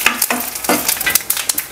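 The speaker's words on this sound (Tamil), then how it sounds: "காஞ்ச மிளகா, வடகம், கொஞ்சமாக சீரகம், கடுகு போட்டும் தாளிக்கலாம்." Dried red chilli, vadagam, cumin and mustard seeds sizzle in hot oil as tempering for Tamil rasam, a loud close crackle with sharp popping spatters and stirring throughout.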